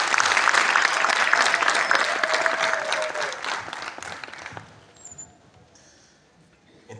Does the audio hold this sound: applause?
yes